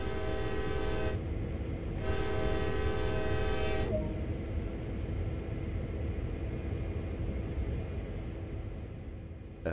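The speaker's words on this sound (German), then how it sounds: "betätigen Sie das Signalhorn zweimal hintereinander." A CSX GP38-2 diesel locomotive horn in the Train Sim World 2020 game sounds twice, two loud sustained blasts of about a second each, followed by a steady rumble of the engine running.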